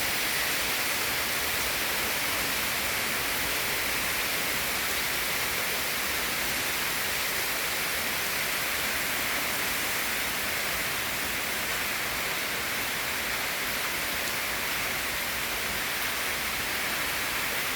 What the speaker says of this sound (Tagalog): malakas na ulan, Biyernes Santo.